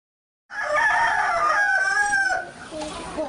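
A Kadaknath rooster crows loudly and close, one long drawn-out call lasting about two seconds, followed by a softer tail of clucking.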